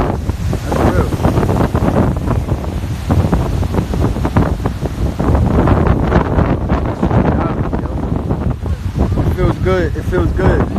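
Ocean waves wash against the shore under heavy buffeting wind that roars steadily across the microphone, loud and close, with a voice talking briefly near the end.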